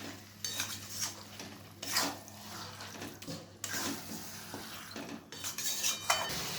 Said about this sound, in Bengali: এখানে আমি মাটনটা দিয়ে দিলাম। মশলার সঙ্গে ভালোভাবে আমি কষিয়ে নিচ্ছি।